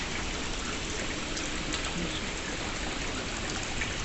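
Steady rain and dripping water at a Shiva temple near Dharamshala, a constant, even hiss of drops on surfaces with no voices.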